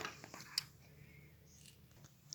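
Scissors cutting small pieces of paper for a peacock craft, a faint close snip among soft rustling, quiet and brief with no talking.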